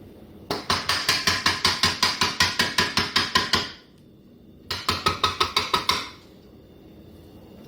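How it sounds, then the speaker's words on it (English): A metal whisk rapped repeatedly against a bowl while cleaning off chocolate mousse mixture, giving a quick run of about fifteen sharp clinks, a pause, then a shorter burst of similar taps, close and loud. "I'm just going to clean off this whisk"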